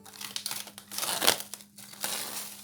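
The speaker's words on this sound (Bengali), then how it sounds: "পলিপটা এখন উঠিয়ে নেব।" Plastic wrap being peeled off a pan of proofed bread dough, with crinkling and tearing in several quick bursts, close and alone.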